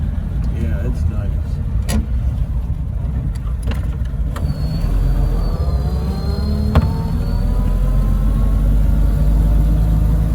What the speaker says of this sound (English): you know how quiet that engine is